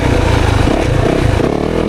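A 2024 Yamaha YZ 450FX off-road motorcycle revs hard under throttle on a woods trail, its loud, close engine roaring steadily through the whole stretch with a rough, clattering edge.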